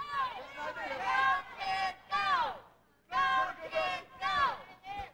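Wrestling crowd at an NWA show in Nashville shouting at the wrestler Kodiak, rising and falling bursts of loud jeering voices with a brief lull in the middle.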